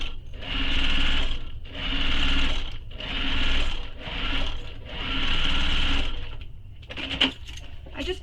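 Sewing machine stitching the curved edges of a mini messenger bag, running in five or six short close bursts with brief pauses between, then a few light clicks at the end.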